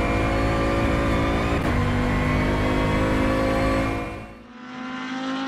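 A GT3 race car in the rFactor 2 sim racing game roars at high revs in a loud, sustained engine drone, then briefly drops away before revving back up.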